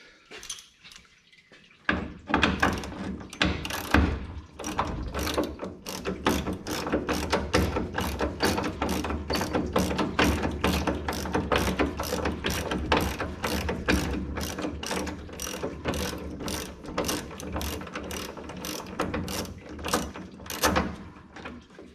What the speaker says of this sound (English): let's go ahead and get this fan shroud out. Looks like there's 6 bolts, 1/2 inch